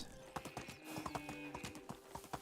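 Animal sounds in the medieval survival game Medieval Dynasty, heard as a steady run of hoof clip-clops with faint braying or whinnying tones underneath, moderately close and without talking.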